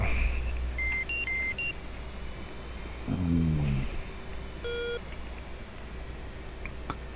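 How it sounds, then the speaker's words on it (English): Electronic radar beeps in a video game sound in short tonal bursts, a quick rising pattern first and a single beep later, over a steady background hum and noise. "So is your radar going crazy yet? It just went beep."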